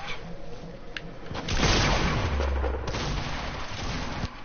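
Gunfire in a video game: loud bursts of shots and booming reports swell after a quieter start and continue steadily to the end, heard without talk.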